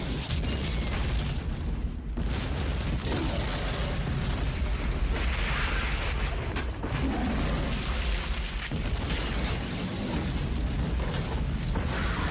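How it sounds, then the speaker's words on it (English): A huge explosion in an action movie, a loud sustained rumbling roar with a few sharp cracks and bursts, dense and continuous for several seconds, without speech. "that is quite possibly the largest fucking explosion I've ever seen on film"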